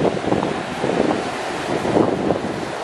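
Ocean surf on the beach at Pegasus Bay rolls in as a steady, broad wash, with wind buffeting the microphone throughout and no voices.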